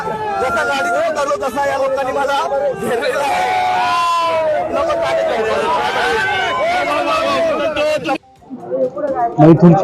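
A dense, loud crowd at a bullock cart race chatters and shouts continuously, with a brief drop near the end before the noise swells again.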